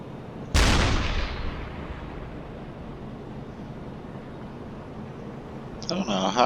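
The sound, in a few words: U-boat deck gun firing at convoy ships, from a video game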